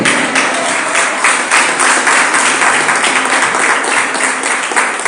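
A church congregation at a Bible question-and-answer session breaks into loud, continuous applause. Dense clapping from many hands holds at an even level for the full five seconds, with no talk over it.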